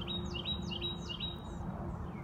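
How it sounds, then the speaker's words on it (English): A wild bird sings outdoors in a string of quick, bright chirps repeated about every quarter second. The song is faint and distant over a steady low background hum. "I am cheered by that bird's beautiful voice."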